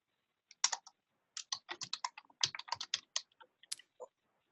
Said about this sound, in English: I can hear you typing again, Jan.